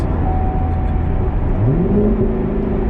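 A C7 Corvette with an AWE aftermarket exhaust idles with a low steady rumble, then revs up briefly with a rising exhaust tone before settling, heard from close by.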